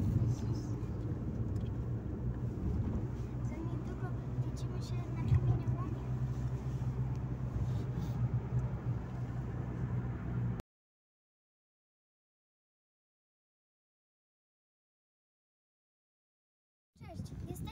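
A car drives toward a quarry, with a steady engine and road rumble heard from inside the cabin for about ten seconds before cutting to silence, then the rumble briefly resumes; voices are faint beneath it.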